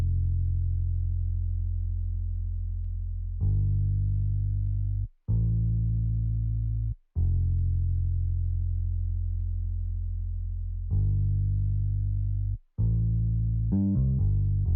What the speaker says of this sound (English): the second half I just added this bass that sounds like this